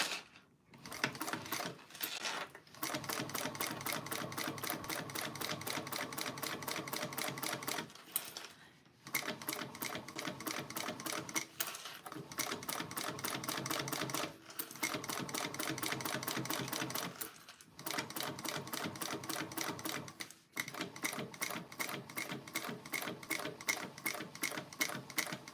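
An industrial-style sewing machine top stitching a bag runs forward in long, steady bursts of rapid needle clatter, with brief pauses between runs.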